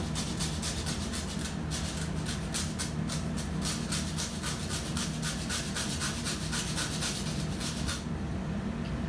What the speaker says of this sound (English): I might zest two